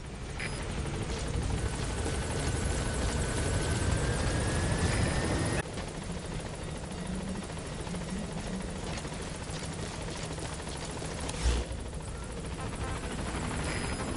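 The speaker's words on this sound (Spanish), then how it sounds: "vamos a solicitar un helicóptero" A helicopter arriving in Metal Gear Solid 5: The Phantom Pain sends out a loud, continuous rotor roar for the whole stretch, with a sudden shift in level partway through and a brief thump later on.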